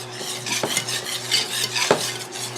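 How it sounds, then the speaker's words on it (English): A whisk clatters against a pot as vanilla is worked into a thick fudge mixture, giving a quick metallic clinking and scraping under a low steady hum. "So I just whisk in the vanilla to my mixture."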